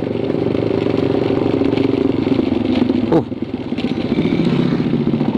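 A motorcycle's exhaust pipe drones steadily and fairly loud while the bike is ridden past a seaside road, with a brief clatter midway.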